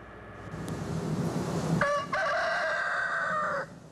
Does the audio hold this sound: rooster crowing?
yes